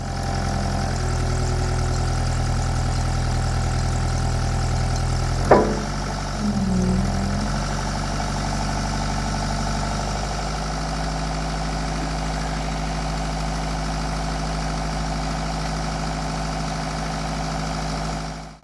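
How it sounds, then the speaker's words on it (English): An excavator's engine idles with a steady, close, low drone throughout, briefly broken by a sharp clunk and shift in tone partway through before it settles back into a constant hum. "I'll get in the excavator and we'll see whether we can assist with our own excavator and lift the new pole into"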